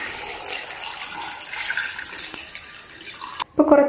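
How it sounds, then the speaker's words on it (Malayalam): Water streams steadily into a pot of chopped tapioca for boiling, a close, continuous pouring splash that ends abruptly with a few clinks near the end. "ഇനി നമുക്ക് കപ്പയ്ക്ക് വേകാൻ ആവശ്യത്തിനുള്ള വെള്ളം കൂടെ ഒഴിച്ചു കൊടുക്കാം."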